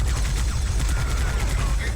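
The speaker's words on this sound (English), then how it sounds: "one of the most powerful sounding weapons in the game uses a stock machine gun sound" A weapon in Warhammer 40K Fire Warrior fires with a stock machine gun sound: rapid, steady automatic bursts repeat loudly throughout over a heavy low-end thump, with no talking.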